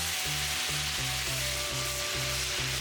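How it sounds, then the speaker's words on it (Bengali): Chicken pieces fry crisp in a pan for a taro and chicken curry, giving a constant loud sizzle close by while a low repeating hum pulses underneath. "এইভাবে নেড়ে নেড়ে মুরগির মাংসটা একদম কড়া করে ভেজে নেওয়া হচ্ছে"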